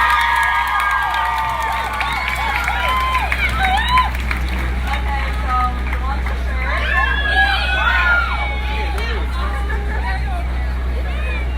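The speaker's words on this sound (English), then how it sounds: "Please give her a round of applause" Outdoor crowd at a climate strike rally in Ann Arbor cheering, whooping and shouting in a steady hubbub, with children's voices, after a speaker is introduced; babble stays dense and loud throughout over a low rumble.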